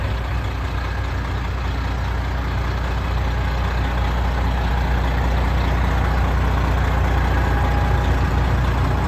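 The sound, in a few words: 2016 Peterbilt 389 glider truck engine idling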